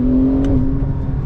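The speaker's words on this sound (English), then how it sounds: "sport response, flick a downshift, and off we go" A Porsche 992 Turbo S blips through a quick downshift and surges off under acceleration, a short, loud, close engine note with a brief rise in pitch.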